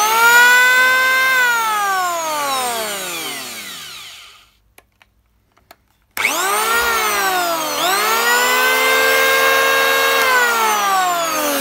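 An electric hand planer whines loudly and close during a function test, spinning down to near silence with a few faint clicks, then starting up again and running steadily to the end.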